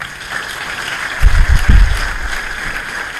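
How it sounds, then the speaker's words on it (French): A university lecture hall crowd applauding, a soft even patter of clapping with a few louder low thumps in the middle, all steady over the short span with no voices. "Vraiment, il faut les applaudir très fort."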